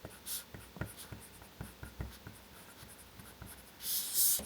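An Apple Pencil writes on an iPad fitted with a Paperlike matte screen protector, producing close, papery scratches and soft taps in a steady irregular rhythm of strokes, ending in a louder brushing swipe.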